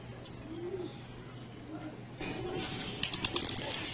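A racing pigeon returns to its loft during summer race preparation in Calamba, Laguna, giving soft cooing calls with a brief flutter of wings, heard close against steady outdoor background noise.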